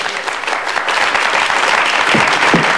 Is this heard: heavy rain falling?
no